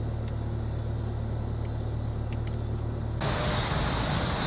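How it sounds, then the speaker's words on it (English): A 2019 Toyota Avalon Hybrid Limited driving on the road, heard as a steady low cabin rumble of tyres and engine; about three seconds in, a louder hiss of wind and road noise abruptly joins. "As we're driving it, this 2019 Toyota Avalon Hybrid Limited"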